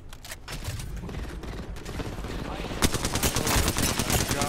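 Rapid automatic gunfire in the video game Apex Legends, dense bursts of shots with mechanical clatter, loud and close throughout and growing heavier toward the end.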